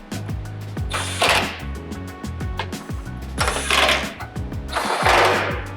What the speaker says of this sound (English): Now I can tighten everything down.